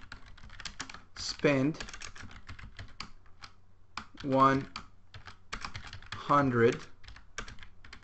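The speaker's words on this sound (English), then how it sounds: "Now let's type a function" Code is typed on a computer keyboard in a steady run of quick key clicks, broken up by three short bursts of speech.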